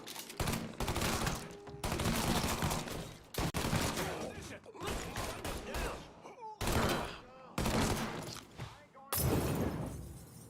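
Bursts of gunfire in the Mafia III video game, repeated heavy volleys and rapid shots in separate loud clusters with short gaps between them, mixed with shouting voices.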